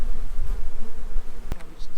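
Honeybees from a caught swarm buzz nearby outside a nuc hive in a low, fluttering drone, with a sharp click partway through.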